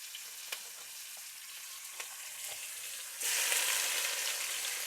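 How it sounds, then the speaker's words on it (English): Onions hit hot bacon grease in a pan and sizzle, a soft crackle with a few pops that suddenly swells into a loud, steady frying hiss partway through. "Let me go ahead and get these onions in here. Putting them in the same grease that I cooked the bacon in."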